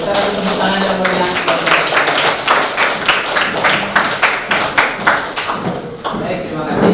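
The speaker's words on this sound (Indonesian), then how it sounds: "Kita beri tepuk tangan yang meriah." A small classroom audience claps for a presenting group, individual handclaps clearly distinct in a fairly close, uneven rhythm that thins toward the end, with some voices underneath.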